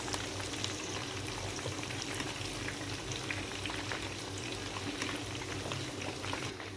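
A whole chicken (chargha) deep-fries in hot oil, a dense, even bubbling and crackle that holds steady throughout at moderate loudness, with no talking.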